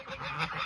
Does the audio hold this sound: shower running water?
no